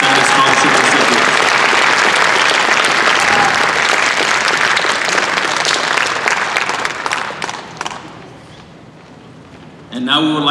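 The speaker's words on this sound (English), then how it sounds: "Round of applause for our class of 1977 scholarship recipients." An audience at a high school awards ceremony applauds scholarship recipients loudly, with dense clapping that thins out and fades before a brief sound near the end.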